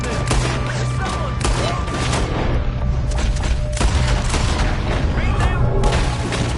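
Gunfire rings out in a Red Dead Redemption 2 robbery shootout, with repeated shots and booms over a dense, continuous battle din, and voices talking through it.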